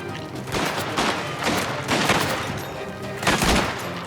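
Sustained gunfire in a Mafia video game, a dense fusillade of repeated loud shots in bursts across the whole stretch, with heavier reports near the end and no talking.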